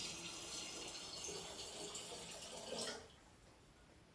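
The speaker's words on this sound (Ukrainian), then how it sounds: "Після додавання води в дистилят він мутніє" Water pours steadily into apple distillate, a soft trickling stream that stops abruptly near the end, leaving quiet.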